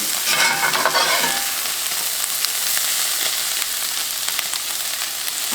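Leftover corned beef hash sizzling and frying in a pan with a browned crust as it is turned over, steady loud crackle with scraping stir sounds, no talking.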